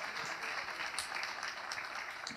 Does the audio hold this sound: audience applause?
yes